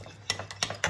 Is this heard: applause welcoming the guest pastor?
no